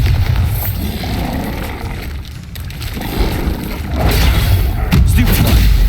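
Bombarda spell explosions in the video game Hogwarts Legacy: loud, heavy booming blasts with deep low-end thuds, continuous and dense, rising in intensity toward the end.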